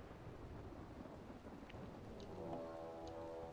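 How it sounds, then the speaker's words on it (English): Steady rain pours with low rumbling thunder in the colony sim RimWorld, a continuous wash of drops with a deeper roll swelling near the end. "started raining. Excellent."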